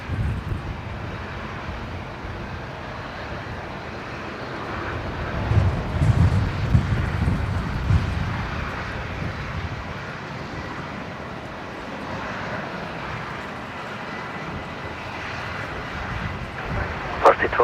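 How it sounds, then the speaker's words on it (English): A Jetstar Airbus A330 takes off from runway 19 left at Brisbane Airport, bound for Newcastle. Its broad, steady roar holds for the whole stretch, with gusty wind buffeting the microphone and a slight swell near the middle. "Jetstar 485. It's just been cleared to take off here on 19 left. It's the service to Newcastle"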